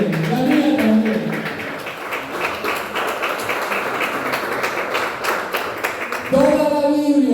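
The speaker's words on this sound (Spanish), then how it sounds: "Dale un aplauso." A church congregation breaks into brisk clapping that fills several seconds, with a voice speaking just before it and again as it fades at the end.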